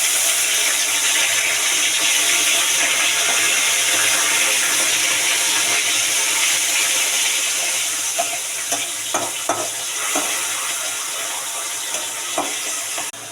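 Onion paste hits hot oil with bay leaves, a loud, steady close-up sizzle that hisses continuously and gradually settles, with a few light utensil clinks toward the end.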